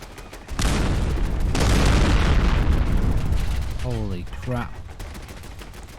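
Loud sustained burst of gunfire from a gun in the zombie-apocalypse modded game Fallout 4, a dense roaring volley lasting several seconds before tailing off as a voice briefly speaks over the end.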